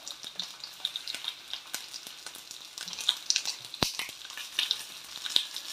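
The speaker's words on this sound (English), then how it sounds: "move the peppers around so that all sides become scorched" Stuffed bell peppers filled with peas and paneer sizzle and scorch on their sides in a hot pan, giving a steady crackling fry with scattered pops and a few sharper spits, close and moderately loud.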